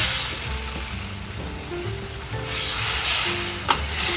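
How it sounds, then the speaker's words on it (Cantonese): Curry paste and coconut cream frying in oil in a pan for fish head curry, giving a steady close sizzle with soft bubbling and a brief clink near the end. "呢個就煮咖喱料嘅，而家就爆緊啦"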